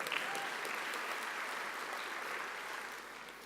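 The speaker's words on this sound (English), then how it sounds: "you can clap if you wish" Audience at an engineering school graduation ceremony at London South Bank applauding, a sustained even patter of many hands clapping that slowly fades slightly toward the end.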